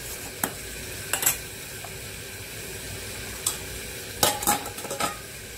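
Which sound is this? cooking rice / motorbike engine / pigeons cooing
cooking rice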